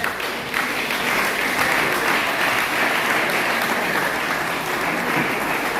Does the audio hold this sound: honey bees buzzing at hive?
no